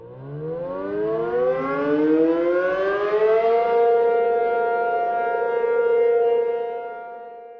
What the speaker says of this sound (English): spoiler siren is lit